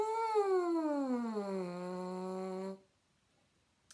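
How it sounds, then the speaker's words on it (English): Lips buzzing into a French horn mouthpiece alone, a nasal, reedy buzz held for nearly three seconds that slides downward in pitch before stopping abruptly, close and fairly quiet. "I can change the pitch of that buzz by tightening or relaxing my lips"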